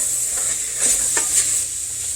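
Spices such as ground cloves and pepper get stirred into a pot of Cincinnati-style chili, a soft continuous sizzle with a few brief scraping strokes in the middle.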